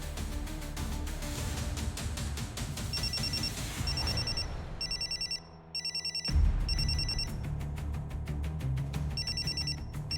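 A telephone rings in repeated electronic bursts, a steady pulsing ring that pauses briefly and then resumes, fairly close and without talk over it.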